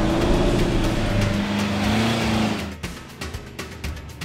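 A 4WD towing a trailer on a rough coastal bush track between Woolgoolga and Wooli, engine droning steadily and then giving way to irregular bumps, knocks and rattles as the vehicle jolts over uneven ground.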